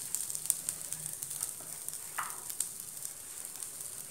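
Chilli, coriander, coconut and sesame dry-frying in a pan, a soft steady sizzle with light, scattered stirring scrapes, faint and close.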